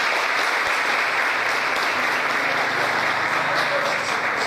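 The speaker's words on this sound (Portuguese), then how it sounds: "Salva de palmas para eles." A church congregation applauds steadily and loudly, a dense wash of clapping that holds for the whole stretch.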